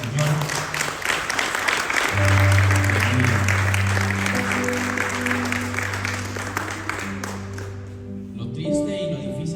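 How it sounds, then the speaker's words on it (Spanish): Church congregation clapping loudly and steadily throughout, layered with sustained organ or keyboard chords and some voices, the applause thinning toward the close. "Fuerte palmas al Señor."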